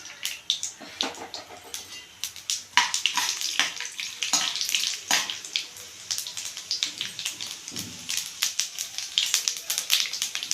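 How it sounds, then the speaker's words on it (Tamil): Mustard seeds, urad dal and chana dal sizzle and pop in hot oil, giving a steady frying hiss dotted with sharp crackles that run throughout, loud and close with no talk over it. "ஆயில் நல்லா சூடாகட்டும். கடுகு, உளுந்து, கடலைப்பருப்பு சேர்த்துக்கலாம்."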